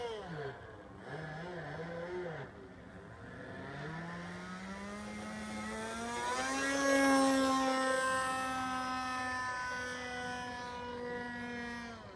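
An engine drone rises in pitch, swells louder, then holds steady, like a small propeller aircraft passing overhead; faint voices underneath.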